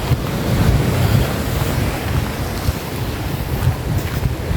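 Sea waves wash steadily onto a Croatian seaside shore in summer, a loud continuous rushing surf mixed with wind buffeting the microphone, with no talking.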